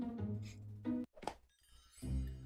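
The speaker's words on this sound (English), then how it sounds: "I slammed my tail on the pipe. Bang." A cartoon cat slams its tail against a pipe in a video game, giving a short hollow thunk amid game music, followed by a second muted clang and a louder musical swell.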